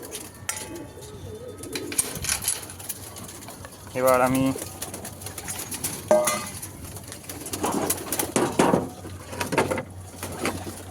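Pigeons in a pigeon house give short bursts of throaty cooing, a few separate calls close by, mixed with light clattering and someone talking.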